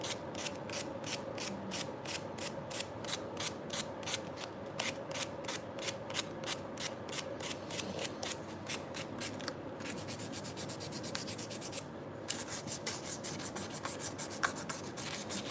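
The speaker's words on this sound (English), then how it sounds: "I'm just gonna knock them down to rounded and sand it over" Hand sanding a carbon fiber knife handle to round a sharp corner: fast, steady rhythmic rasping strokes of sandpaper, close up, continuous for the whole stretch with brief pauses.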